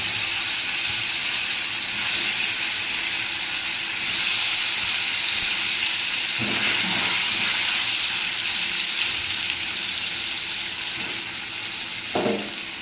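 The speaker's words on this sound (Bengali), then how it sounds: "এবার পনিরগুলো ভেজে তুলে নেব" Paneer cubes frying in hot oil in a wok, giving a continuous bright hiss with a few sharper crackles and bursts, no talking.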